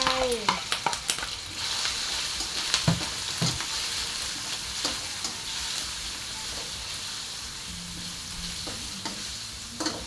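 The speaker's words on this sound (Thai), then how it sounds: "เจียมกระเทียมให้หอมของใส่หมูลงไป" Pork and garlic are stir-fried in a pan, with a loud continuous sizzle and hiss broken by repeated scraping and clanking of the utensil against the pan, close and busy throughout.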